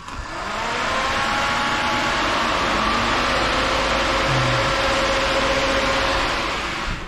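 A Toyota Supra with a 2JZ engine idles steadily, close and loud, a continuous low rumble with a faint whine that holds evenly for the full stretch, with no voices.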